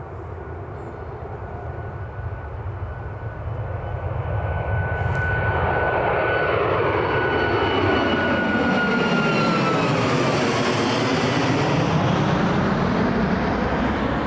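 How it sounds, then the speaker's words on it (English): A Boeing 737 MAX 8 takes off from Newcastle Airport, its engine roar building from a distant whine into a loud, sustained rumble that holds steady and sweeps in pitch as the jet passes. "Max 8 off to Lanzarote."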